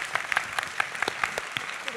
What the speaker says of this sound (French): Je voudrais même qu'on vous applaudisse